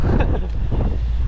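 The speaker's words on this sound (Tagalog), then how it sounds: "Taas ng hangin." Strong wind buffets the microphone on an island shore, a loud continuous roar with gusty rumble and possible surf beneath, no voices.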